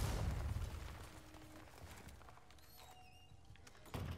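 Grenade explosion in the Resident Evil 4 Remake video game: a single muffled low boom at the start that decays into a quiet rumble, then a soft thump at the close, all fairly faint.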